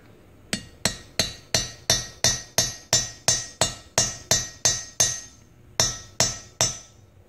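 A steady series of sharp metallic taps seating a valve oil seal in a Subaru STI EJ25 cylinder head, about fifteen evenly spaced strikes with a brief pause near the end, close and crisp.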